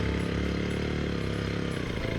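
Ryobi 4-cycle weed wacker engine, flooded and running rich, idling close by with a steady, buzzy, slightly uneven drone and no talking.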